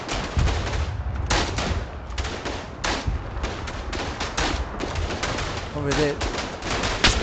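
Rapid gunfire crackles and thumps through a battle in the World War One shooter Verdun, with repeated loud shots, some in bursts, and someone speaking briefly amid the firing.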